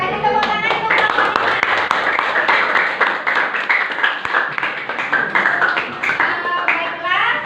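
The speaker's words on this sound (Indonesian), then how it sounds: "Kasih tepuk tangan untuk kelompok" A classroom audience claps for a presenting group, dense continuous applause with many hands close by, steady and loud throughout with a few voices underneath.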